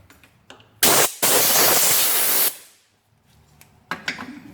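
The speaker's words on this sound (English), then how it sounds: "I'm going to blow this out with some compressed air first" Compressed air blasts in two loud hissing bursts, one very short and one sustained, to clean threads in an LJ transmission, with faint clicks and handling around them.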